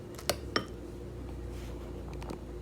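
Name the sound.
spoon being grabbed, dishes clinking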